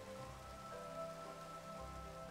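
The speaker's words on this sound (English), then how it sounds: "Let's sleep the rain away, by the way, because it's going to get really annoying" Steady rainfall pattering on surfaces in the Minecraft Sky Factory 3 video game, a continuous even wash of drops with faint musical tones underneath, no speech.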